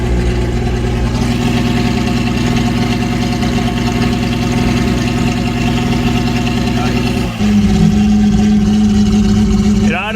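A Datsun 280Z engine idles high at about 2,000 rpm during fuel-system revival work, a loud, steady, close mechanical drone that shifts pitch briefly near the end, with some talking mixed in.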